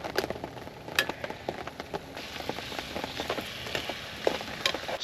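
Rain patters and taps on a clear camping tent shelter during a severe storm, a dense close-up spray of drops with sharper individual hits scattered irregularly, moderately quiet and without voices.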